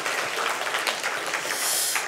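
A church congregation applauding during a Sunday service, a steady wash of clapping from many hands that swells slightly toward the end, with no speech over it.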